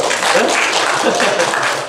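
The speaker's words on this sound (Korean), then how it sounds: "목사님 같은 분을 박수 좀 한번 쳐요, 진짜로" A church congregation claps in sustained, dense applause for about two seconds during a Sunday service, loud and close.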